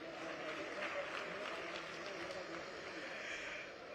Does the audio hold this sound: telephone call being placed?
no